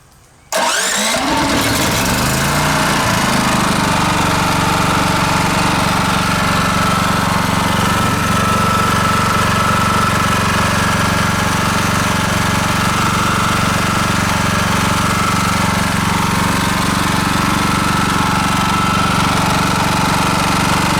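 A Champion generator cranks, catches and settles into a loud, steady mid-pitched engine drone that runs without a break, close by and with no talking.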